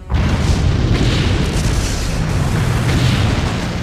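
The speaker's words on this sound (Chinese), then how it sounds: "大地震动，山体摇晃，强势的爆炸声" A powerful explosion booms suddenly and then rolls on as a long, loud, rumbling roar that fills the space, a dramatic sound effect in a Chinese fantasy audiobook.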